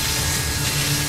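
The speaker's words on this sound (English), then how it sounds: "If you push the drill too hard, it'll overheat." A laser drill whines and grinds steadily into a vault lock during a Diamond Casino heist in GTA Online, a loud continuous harsh buzzing texture with no breaks.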